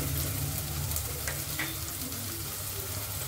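Grated ginger and garlic, about half a spoonful, fry in a pan with a soft, steady sizzle that stays faint and continuous throughout.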